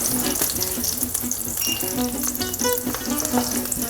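Cooked broccoli fries in olive oil in a pan, giving a loud, steady, crackling sizzle with occasional stirring clinks, close and continuous with no talking.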